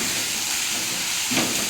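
Onion paste and chopped garlic hit hot oil while cooking chana masala, giving a steady broadband sizzle and hiss throughout, with a slight burst of spitting near the end; no talking.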